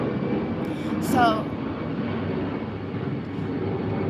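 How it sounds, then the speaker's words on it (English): A plane passes overhead near an airport with a steady, broad roar that swells slightly and holds. A voice speaks briefly over it. "That's a plane passing."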